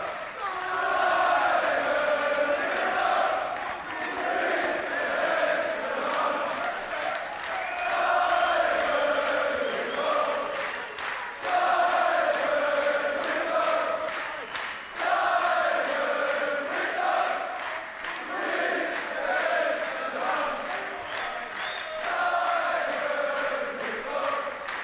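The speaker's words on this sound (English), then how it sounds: "The crowd, of course, shouting for Simon Whitlock" At a darts European Championship final, an arena crowd roars and chants steadily for Simon Whitlock, a dense, continuous wall of shouting with rhythmic pulses throughout.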